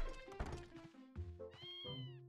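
Cats meowing in Zelda: Twilight Princess: close, tonal meows repeat one after another, bright and fairly loud, with a low thunk mixed in.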